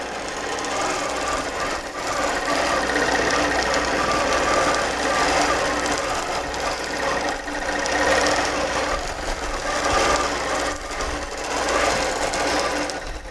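A sewing machine tacking down the bottom edge while machine basting a quilt, a loud, fast, steady mechanical chatter that runs almost continuously, dipping briefly between bursts, close to the listener with no speech.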